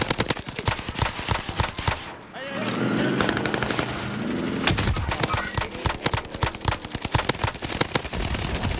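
Rapid video game gunfire in bursts, with sharp crackling shots stacking over busy game sounds and a steady rumbling stretch midway.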